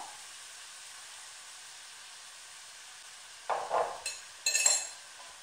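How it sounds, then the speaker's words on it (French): Vegetables with soy sauce and spices cooking over very high heat for shrimp cigars, a faint steady sizzle and hiss followed by a few sharp clinks and scraping stirs near the end. "je laisse mes légumes cuire à feu très élevé pour que l'eau s'évapore pendant 15 minutes"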